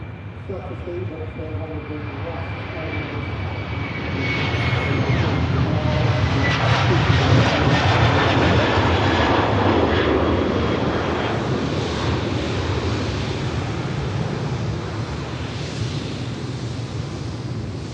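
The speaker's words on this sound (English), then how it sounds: "this is a twin prop aircraft" A twin-prop Aer Lingus UK airliner takes off at Manchester Airport, its steady propeller and engine roar swelling to a loud peak midway and holding with broad wind-like rumble, while people talk over it.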